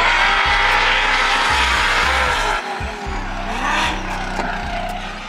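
A Formula Drift Prospec race car engine revs hard and repeatedly on track during practice, close and loud, with rhythmic drops between bursts and faint tire squealing over a steady roar.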